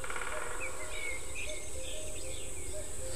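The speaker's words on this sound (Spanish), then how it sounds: "esta es la biofonía propia de un bosque bien conservado. Los torcazos, los cucos, algún sonido de madera por ahí." Birdsong in a well-preserved forest, reportedly including wood pigeons and cuckoos: scattered faint calls and chirps carry over a steady background hiss, distant and soft.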